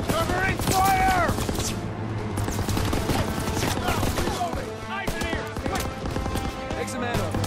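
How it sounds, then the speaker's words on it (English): Machine gun covering fire fills a Call of Duty: WWII battle on Hill 493 with dense, overlapping bursts of gunfire and distant booms, alongside shouted voices. "Covering fire on the MG!"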